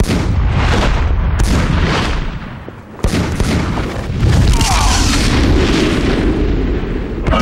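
Heavy weapons fire at a Kryptonian target in the video game Superman: Shadow of Apokolips, a dense barrage of loud booming blasts and explosions that briefly thins near the middle before resuming.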